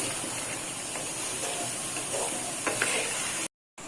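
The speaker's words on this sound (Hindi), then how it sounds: "तो अब मैं इसमें सारे खड़े मसाले डालूंगी, ठीक है। 2 मिनट तक इसको भी मैं अच्छे से भून लूंगी इन मसालों के साथ।" Whole spices fry with ginger-garlic paste in oil for restaurant-style chicken biryani, giving a steady, even sizzling hiss throughout that cuts off abruptly near the end.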